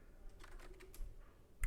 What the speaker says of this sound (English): and just typing things without talking